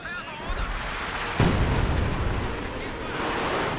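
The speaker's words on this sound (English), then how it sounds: "Oh, some big hits from the Howie again." Heavy howitzer shells landing in a Company of Heroes 2 match, heard as a dense rumbling barrage with a sharp boom near the middle, set against constant battlefield noise.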